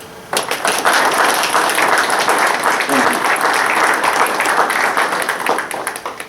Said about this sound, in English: I think we need to give these ladies a round of applause.